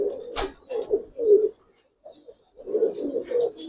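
Pigeons cooing close by in several soft, throaty bursts with a brief quiet gap in the middle, alone with no talk.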